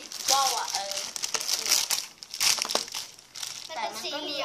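A square paper ticket made of thin kite paper crinkles and rustles in quick bursts close by, while someone talks over it.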